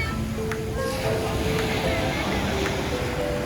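Ocean surf washing onto a beach in the Dominican Republic, a steady close hiss of breaking water with wind on the microphone, while people talk faintly in the background.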